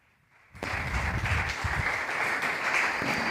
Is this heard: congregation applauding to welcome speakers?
yes